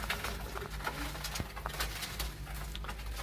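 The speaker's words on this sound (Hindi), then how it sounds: "अब मैं आपको अपने उड़ने वाले जो कबूतर हैं उनका शौक़ करवाऊंगा।" Domestic flying pigeons kept by a breeder give soft, low cooing that carries on steadily over a faint background hum, with no talk over it.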